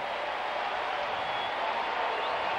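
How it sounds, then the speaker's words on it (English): A baseball stadium crowd of Red Sox and Indians fans roars in a steady, even wash of cheering and applause that holds without a break, distant and broad. "Scoreboard calling for noise. The crowd responding."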